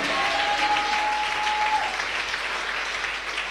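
A church congregation clapping together for God during a worship service, a dense steady applause that carries on throughout and eases slightly at the end.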